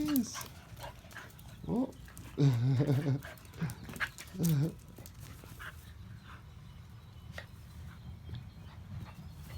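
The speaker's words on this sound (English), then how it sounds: "it seems like I have another friggin' dog. Just a puppy that just showed up today." A puppy whimpering and whining in rising high yelps, then panting, close by, with a person briefly speaking.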